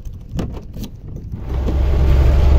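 A truck engine starting to idle to build air pressure, a low steady rumble swelling after some clicks and rattles, close and growing louder.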